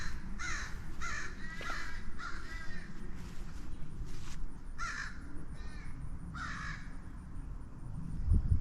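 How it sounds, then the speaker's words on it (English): Several crows in a quiet corner of Oak Ridge Cemetery call in a series of harsh, repeated caws, some overlapping, over a low steady outdoor hum, with a sharp thump near the end. "Several crows."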